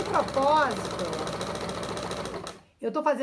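A sewing machine runs at close range, stitching fabric in a gentle wavy zigzag seam, giving a steady rapid mechanical whir that stops near the end. Someone talks over it and keeps talking after it stops.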